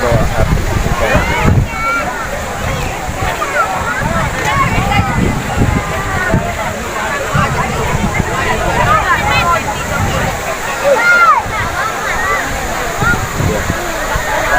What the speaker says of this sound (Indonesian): Situasi di sekitar di bawah, tepat di bawah air terjun Ponot.